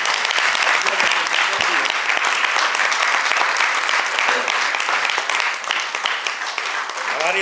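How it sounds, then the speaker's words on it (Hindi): Loud, dense applause from an audience at a stage event, many hands clapping in a continuous roar that holds steady throughout, with faint voices mixed underneath. "तालियां बजाइए।"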